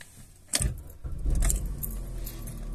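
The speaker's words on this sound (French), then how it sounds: "je prends juste les clés et on va la démarrer qui logiquement devrait démarrer au quart de tour" Car keys jangle, then an Opel Astra petrol engine cranks and catches, settling into a steady idle rumble close by.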